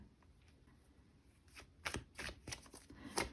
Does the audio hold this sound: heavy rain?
no